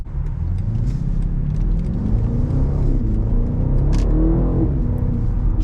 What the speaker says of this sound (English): you just floor it and it just downshifts and goes immediately